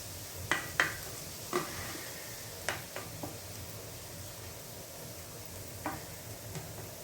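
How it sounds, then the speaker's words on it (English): Onions sautéing in a pan for a shrimp, squash and zucchini casserole, giving a steady close sizzle broken by several sharp clinks and scrapes of a utensil stirring against the pan, with no talking. "you want to saute your onion until they are translucent"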